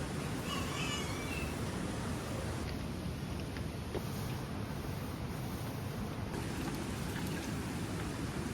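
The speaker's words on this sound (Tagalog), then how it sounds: "Dahil medyo humangin, pinasok yung dining ng ulan" Wind-driven rain blows into a house's dining area, making a steady, even hiss of falling water that continues throughout with no talking.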